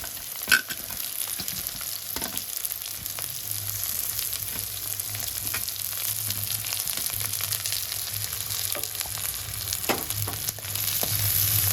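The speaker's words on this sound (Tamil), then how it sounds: "இப்போ 2 வெங்காயம் அரிஞ்சு வச்சு அதையும் போட்டுக்குவேன்." Chopped onion, garlic and ginger fry steadily in a pan for chicken pasta, a constant close sizzle with a few sharp crackles and stirring clinks, no voices.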